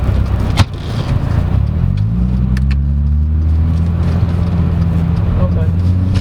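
A 2015 Hyundai Genesis Coupe with a 3.8L V6 rumbles steadily from inside the cabin while being driven, its low engine drone rising slightly in pitch as it pulls, with a sharp knock near the start.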